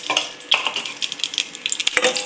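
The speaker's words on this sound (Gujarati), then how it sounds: "હવે પેલા આપણે નાખી દઈએ કાંદાના જે બટકા રાખ્યા છે આપણે થોડા એની અંદર" Onion pieces go into a hot pan with asafoetida for a green paneer dish, crackling and sizzling with sharp clinks of a spoon stirring against the pan, close and fairly loud with no speech.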